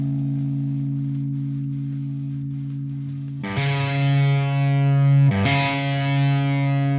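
Electric guitar with a Seymour Duncan Invader pickup plays through a Rectifier amp sim, starting with a sustained clean-ish droning chord, then two heavily distorted, scooped chord hits ringing out loud.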